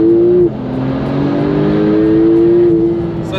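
An 800 hp sports car with an automatic gearbox accelerating, loud close engine note that drops briefly at a gear change and then climbs steadily in pitch.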